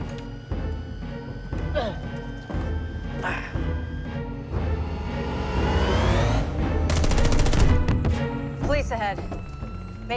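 Gunfire in a shooting game: rapid shots crackle under near-constant talking, with a dense burst of automatic fire in the middle among other game effects.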